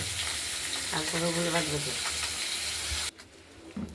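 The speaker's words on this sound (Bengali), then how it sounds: "মাছগুলো ভাজা হচ্ছে করতে থাকুন ভেজে তুলব" Koi fish frying in a pan of oil give a steady, close sizzle, with a voice speaking over part of it, before the sound drops away sharply near the end.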